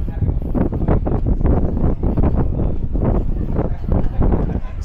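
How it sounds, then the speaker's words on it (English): Gusty wind buffets the microphone on the open deck 12 of a cruise ship on a sunny day, loud irregular rushing bursts throughout. "it's nice and windy, it's beautiful"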